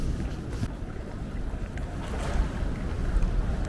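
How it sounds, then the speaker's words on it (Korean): Strong sea waves surge and break at a harbour on Korea's east coast near Hujin port, a steady dense wash of water and wind buffeting the microphone, continuous and fairly loud with no speech. "파도가 셉니다 저희 파도 넘어오는 거 보이죠"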